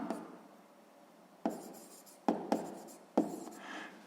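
A pen writes on paper during a sixth-grade maths exercise, with soft continuous scratching broken by several sharp taps as the pen strikes the page, all close and fairly quiet.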